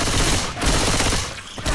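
Gunfire in the zombie shooter Left 4 Dead 2 comes as a dense, loud burst of rapid shots that run together into a short continuous volley.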